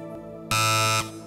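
Quiz show buzzer sounds once, a loud, harsh electronic tone lasting about half a second in a quiet studio, with a faint hum before and after.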